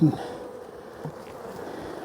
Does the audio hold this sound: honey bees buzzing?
yes